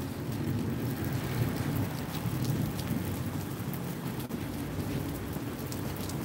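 Steady, dense rain pours down without letup during a thunderstorm, a continuous broadband hiss with low rumbling underneath and no voices.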